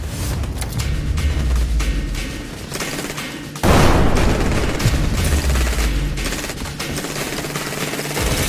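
Realistic military rifle gunfire from the VR shooter Zero Caliber, loud, dense bursts and rapid automatic fire with a sharp heavier blast midway, continuing steadily throughout, no talk.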